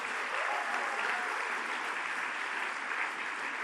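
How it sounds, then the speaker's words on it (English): Audience applause at a university convocation ceremony fills the hall as a dense, continuous wash of clapping, steady and fairly faint throughout with no talk over it. "They need an applause too."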